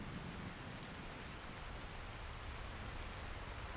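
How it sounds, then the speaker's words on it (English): Steady, soft rainfall in a video game hisses evenly throughout, a dense wash of drops with no voices or other sounds. "And it's raining again."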